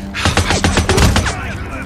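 Sniper gunfire in the video game Days Gone: a loud, near volley of rapid sharp cracks and thumps in quick succession across nearly two seconds, with a voice partly mixed under the shots.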